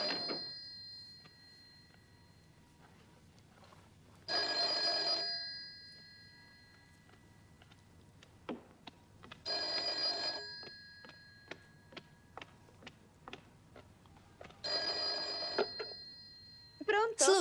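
Telephone ringing in a 1981 Italian film scene, repeated bursts of electric bell ringing a few seconds apart in a quiet room, with occasional clicks and knocks between rings.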